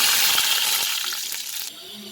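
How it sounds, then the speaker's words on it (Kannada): Mustard seeds and curry leaves fry in about two tablespoons of hot oil, giving a loud, bright sizzling hiss with small sputters and pops that ease off slightly toward the end. "ಈಗ 2 ಟೇಬಲ್ ಸ್ಪೂನ್ ಆಯಿಲ್ ಹಾಕಿದ್ದೀನಿ. ಸಾಸಿವೆ ಹಾಕ್ತಿದ್ದೀನಿ."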